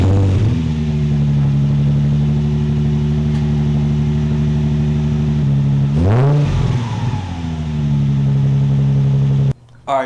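A Nissan 350Z with a VQ35 V6 and an ISR exhaust cranks and fires up, then settles into a loud, steady, droning idle with a brief rev swell midway before cutting off abruptly near the end.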